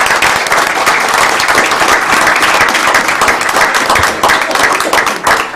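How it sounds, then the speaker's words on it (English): Audience applause for young people at a school board of education meeting: steady, dense clapping from a room full of people, loud and sustained throughout with no talk over it. "And we can give them a round of applause,"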